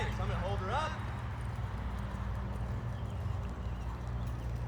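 Hooves of a horse being ridden clip-clop at a steady pace under a person's talking, joined briefly by a faint whinny early on.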